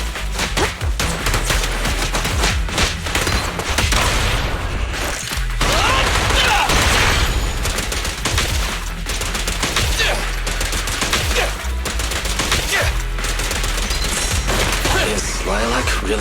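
Sustained gunfire in Zenless Zone Zero rattles on for about sixteen seconds, a loud, dense stream of rapid shots and impacts with mechanical clatter and occasional voices underneath.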